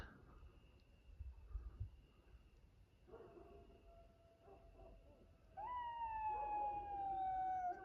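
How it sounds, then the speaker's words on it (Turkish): Jackals howl around a garden at night, starting faintly and distantly, then a long rising and falling chorus of wavering howls swells louder toward the end in an otherwise quiet setting. "Evet arkadaşlar görüyor musunuz? Çakal sesleriyle"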